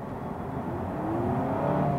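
A Honda Civic engine in sport mode hums and whirs steadily, its pitch slowly rising as it accelerates, heard from inside the car.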